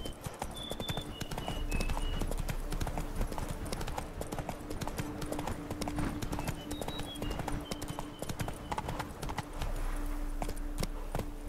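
Horse galloping in the video game Witcher 3, a continuous fast clip-clop of hooves close up, steady in rhythm under game ambience with faint tonal chimes.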